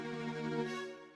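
Soft Korg Triton tremolo string pad with no EQ, a bright, airy sustained chord with a trembling shimmer, played alone at low level.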